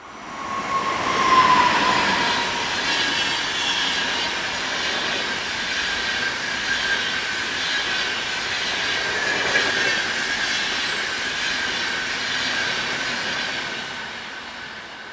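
An SBB Re 460 electric locomotive hauls a train past toward Zurich, a loud, sustained rumble of wheels on rail with clicking joints and a faint squeal, near and continuous.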